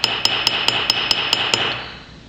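A cross peen hammer strikes a metal rivet eight times in an even, quick rhythm, each blow a sharp, bright ring close by. The last strike is followed by a fading metallic decay.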